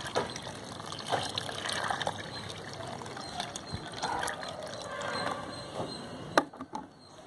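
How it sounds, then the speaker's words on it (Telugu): Water pours and trickles onto soil around a freshly transplanted hibiscus plant in a garden, a steady broadband splash close by with a few sharp clinks and splashes near the end. "నీరు వేసుకోవాలండి."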